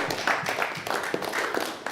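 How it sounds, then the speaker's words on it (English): Campus audience clapping for themselves, a dense, steady patter of many hands at moderate loudness throughout, with no voices standing out. "give yourselves a round of applause"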